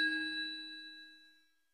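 A single bright notification bell ding rings once, clear and metallic, then fades away smoothly over about a second and a half, heard alone.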